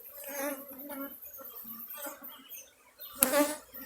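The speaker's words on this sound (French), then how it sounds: "je transvase le plus possible d'abeilles doucement, pour essayer d'en traumatiser le moins possible" Honeybees being gently transferred into a hive give a close, buzzing hum that swells and fades in short bursts, with a brief louder rustle or knock near the end.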